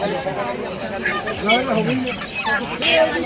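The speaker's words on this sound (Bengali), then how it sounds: "আর এখানে মুরগা মুরগি সব মাপানো হচ্ছে" Chickens and roosters cluck and call in overlapping bursts at a busy poultry market in South Dinajpur, India, against constant crowd noise and nearby talking.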